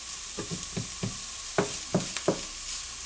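Lobster meat warming in a pan before going into an asparagus omelet: a soft steady sizzle with a series of light scraping and stirring taps at an irregular rhythm, close and fairly quiet, no talking.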